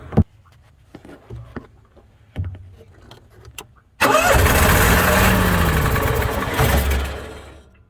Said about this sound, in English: you notice the engine starts cranking and the armature doesn't even spin at first